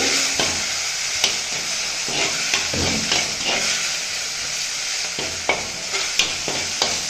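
Ginger and salt sautéing in a pan for ginger rice, a continuous loud sizzle with repeated scraping stirs and knocks of the spatula throughout.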